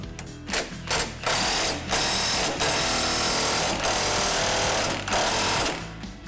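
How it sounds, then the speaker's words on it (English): An impact wrench hammers loudly and continuously at close range while loosening a ball joint on a Jeep Wrangler JK, in several long rattling bursts separated by brief pauses. "for this demonstration, we're going to use the impact."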